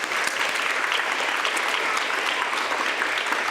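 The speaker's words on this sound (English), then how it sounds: "Boys and girls, a round of applause for Officer Dry." A crowd of children and adults at a school DARE graduation claps loudly and continuously, a dense, steady wash of applause filling the whole few seconds.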